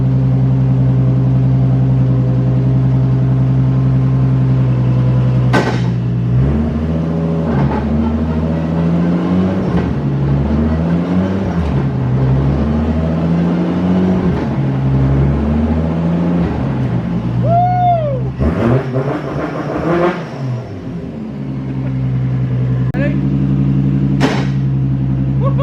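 A car with a 4-speed dogbox engine runs and drives, loud and close, with a rough idle, revs rising and falling through gear changes, a whine and clunks, then the engine dips before picking back up.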